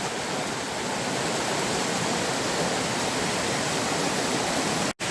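A river flows through a mossy wooded valley near Belstone on Dartmoor-style moorland walk, a loud, constant broadband rush filling the whole stretch before cutting off abruptly at the end.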